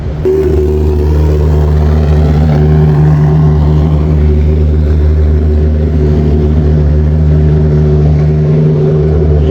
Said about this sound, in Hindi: स्प्रे वाली गाड़ी तो दोस्तों हमारा पीछा ही नहीं छोड़ रही।